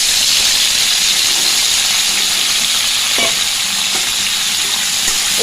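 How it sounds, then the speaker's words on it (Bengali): Vegetables frying in hot oil with dry chilli and cumin, a loud steady sizzle and hiss with faint stirring scrapes throughout. "এটা একটু ভাজা ভাজা হয়ে গেলে এখানে আমি এই সবজিটা ছেড়ে দেবো।"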